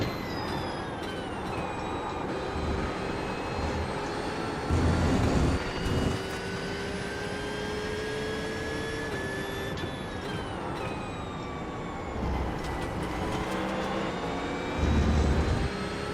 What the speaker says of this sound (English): That Mustang just has a lot of grunt on the straightaway.